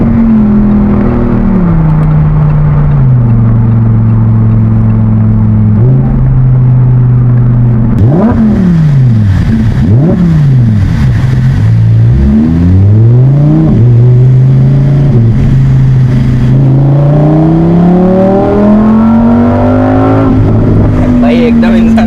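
A Lamborghini engine revs hard and accelerates, loud and close, its pitch climbing, dropping and surging again throughout, with people talking over it.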